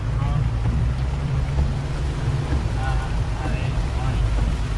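A Mahindra Thar drives through rain floodwater, its engine a constant low rumble under a continuous rush and splash of water and wind noise, with voices talking faintly inside the vehicle.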